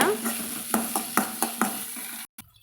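Tamarind and curry leaves sizzle in a hot pan while a spoon stirs them, giving a steady frying hiss under a series of rhythmic scraping strokes before a brief cutoff.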